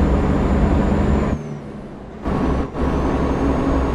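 Heavy truck with a 370-horsepower engine in Euro Truck Simulator 2, a loud steady drone with high whine that drops away briefly, then returns, with a short air-brake-like hiss.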